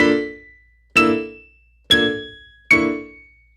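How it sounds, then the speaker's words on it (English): Four separate piano notes struck one at a time at a slow, uneven pace, each ringing out and fading before the next; the tones clash and sound out of key. "Because if you play some notes outside the scale, it might sound like this"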